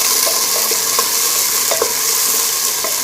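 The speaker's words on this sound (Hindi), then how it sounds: "मटर डाल देंगे, आलू, और इन सबको हम अच्छे से भून लेंगे।" Cauliflower, beans, peas and potatoes stir-frying in a pan for dal khichdi: a steady, close sizzle with scattered scraping clicks of a spoon, continuous and fairly loud throughout.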